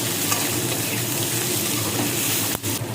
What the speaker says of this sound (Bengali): এই তেলটা পেঁয়াজের মধ্যে দিয়ে দিলাম। এটাকে ভালো করে নাড়াচাড়া করতে থাকলাম।